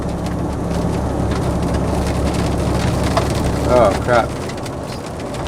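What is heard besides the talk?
rain and snow falling, like hail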